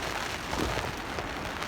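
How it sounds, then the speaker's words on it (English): Heavy rain pelts the roof of a tent pitched at a seashore campsite, a close, even hiss of drops on fabric throughout. "You can hear the rain on the top."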